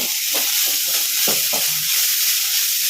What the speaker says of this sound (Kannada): ಇದಕ್ಕೆ ಕೊತ್ತಂಬರಿ ಸ್ವಲ್ಪ ತೆಂಗಿನ ತುರಿ ಹಾಕ್ಕೊಳ್ಳೋಣ ಮಿಕ್ಸ್ ಮಾಡ್ಕೊಳ್ಳೋಣ